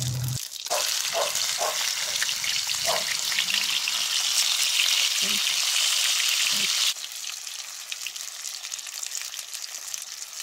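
A batch of vegetables hits hot oil, then fries with a loud, dense, continuous sizzle; a few utensil knocks come early and the hiss eases slightly toward the end.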